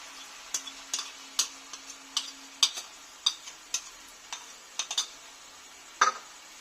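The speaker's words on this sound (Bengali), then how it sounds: "দিয়ে আরো ভালো করে আমি একটু কষে নেব দইটা দেওয়ার পরে।" Yogurt marinated with spices frying and being stirred in a pan for chicken kofta, steady soft sizzle with repeated sharp clinks of a utensil scraping against the pan, close and alone.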